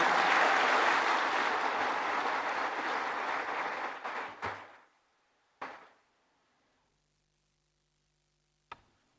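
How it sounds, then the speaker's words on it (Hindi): An audience at an awards ceremony in Vigyan Bhawan bursts into strong, dense applause that fades out over about four seconds, followed by a couple of isolated claps and near silence. "जोरदार तालियां माननीय राष्ट्रपति महोदया के लिए"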